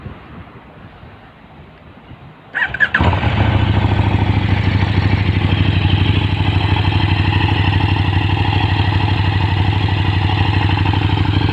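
A 2018 KTM Super Duke 1290R with stock exhaust cranks briefly and fires up after a quiet start, then settles into a loud, steady, close idle that continues to the end.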